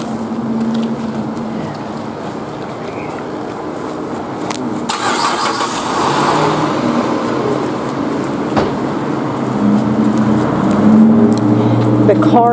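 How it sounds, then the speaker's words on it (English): A car engine runs steadily with a low rumbling drone, joined partway through by a louder burst of broadband noise, with voices faintly mixed in around it. "The car is on."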